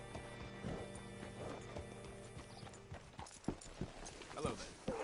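Horse hooves clip-clopping in the game Red Dead Redemption 2, a steady walking rhythm of close hoof strikes with a few whinnies and soft background game ambience.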